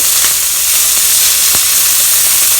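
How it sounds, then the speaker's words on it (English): Scallops frying in oil in a pan give a loud, steady, close sizzle with bright broadband hiss throughout, broken only by a few faint ticks and pops. "It will be easier to fry if there's oil inside the pan."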